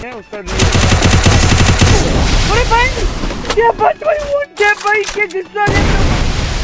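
Sniper shots ring out during a Battlegrounds-style mobile shooter match, a rapid burst of loud cracks with whistling game effects and a few sharper reports, while players talk excitedly over them.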